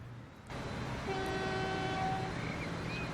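A train in the Transport Fever game sounds a steady tonal horn over a continuous rolling rumble of moving rail cars, with the horn holding for about a second before fading back into the running noise.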